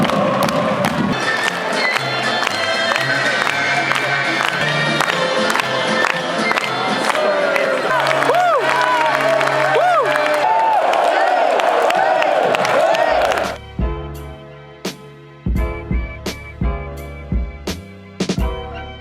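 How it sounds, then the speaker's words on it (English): Hockey fans at a Medveščak Zagreb game in Zagreb, Croatia fill an arena with loud, sustained crowd noise, cheering and chanting, then give way to sharp rhythmic drum beats and claps near the end. "judging by the chanting, drumming, and top of the lungs cheering"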